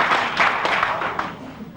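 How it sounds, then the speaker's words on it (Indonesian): A church congregation claps together during a sermon, a loud, dense burst of applause lasting about two seconds with a voice audible over the top. "Berikan tepuk tangan yang meriah."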